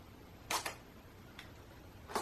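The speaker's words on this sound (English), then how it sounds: "I'm going to actually take a picture." Sony A77 camera, sold for parts with an image stabilization error, firing its shutter: a sharp close double click, a faint tick a moment later, then another crisp click, all alone in a quiet room.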